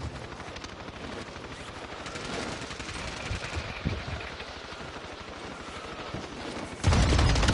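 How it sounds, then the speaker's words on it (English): Rapid automatic gunfire rattles continuously in a Call of Duty match, dense bursts of shots with distant booms mixed in, ending in a louder, closer burst. "Taking fire!"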